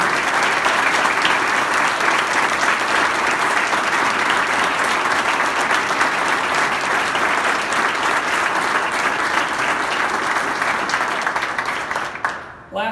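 A crowd applauds at an outdoor press conference about the Normal underpass, a long, loud, even roll of clapping that carries on unbroken before tapering off sharply at the end.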